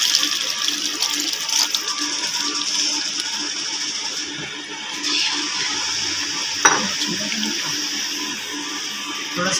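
Water pours and sizzles into a hot pan of frying aloo kofta curry, with soft stirring and clinking of a utensil against the pot.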